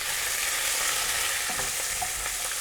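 Onions frying in a pan with mustard seeds and fresh curry leaves for a prawn curry, a steady close sizzle throughout with a few soft scraping stirs near the middle.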